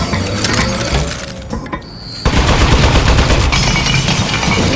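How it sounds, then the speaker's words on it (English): An Aperture turret in the game Aperture Desk Job fires a rapid, loud burst of shots, pauses with a crunching, glassy break, then resumes shooting in a fast rattling stream. "Oh man, the turret broke."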